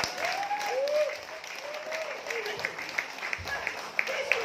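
Church congregation applauding during a sermon, a moderate burst of clapping with a few sharper claps toward the end.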